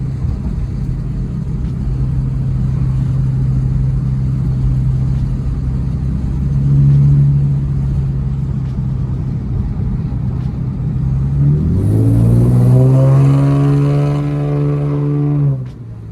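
A car with a freshly swapped JDM VQ35DE V6 idles with a steady low hum, then revs up sharply near the end with a rising, rich engine tone before dropping back. No one speaks.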